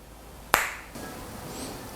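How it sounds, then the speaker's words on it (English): A single sharp finger snap rings out near the start, crisp and close, then fades into quiet room hiss. "let me see if I can do that magic finger snap thing again"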